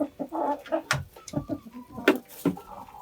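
Several turkeys gobble and cluck close by in quick bursts, some calls sharp and loud, with a busy, irregular flock chatter throughout.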